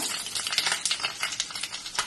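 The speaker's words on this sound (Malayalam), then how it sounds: "കടുക് പൊട്ടി വെക്കാം" Mustard seeds crackle and pop in hot oil in a pan while cooking a king fish curry, giving a dense, continuous spatter of small crisp pops at close range.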